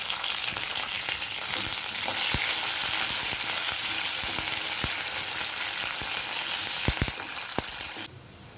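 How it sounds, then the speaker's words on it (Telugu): Onion, green chilli and curry leaves fry in hot oil for a tempering; a loud, continuous close-up sizzle with occasional pops and crackles, fading sharply at the very end. "ఉల్లిపాయ పచ్చిమిర్చి కరివేపాకు వేసేసుకుని దోరగా వేయించుకోవాలి"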